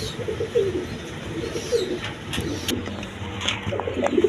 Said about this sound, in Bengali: নটটা প্রচুর ডাকা ডাকতেছে